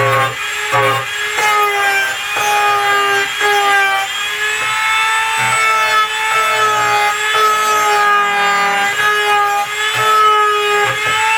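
Rhythmic rubbing strokes repeat steadily, a close, scratchy back-and-forth of hand sanding an Xbox One console case, loud and continuous without speech.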